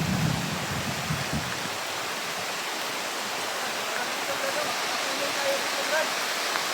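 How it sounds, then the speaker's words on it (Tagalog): Heavy rain pours down as a dense, unbroken roar of hiss that fills the whole clip evenly, with a brief low rumble near the start. "sobrang lakas ng ulan"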